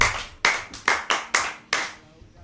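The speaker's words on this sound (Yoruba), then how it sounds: "ẹ pàtẹ́wọ́ fún ọ" A small group claps in short, sharp bursts, about seven separate quick rounds of applause within a couple of seconds, each fading quickly.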